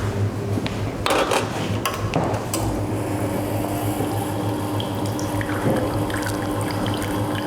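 Water from a Rocket R Cinquantotto espresso machine flushes through an inserted filter holder into a cup, a steady close hiss and splash with a few clatters early on, no talking.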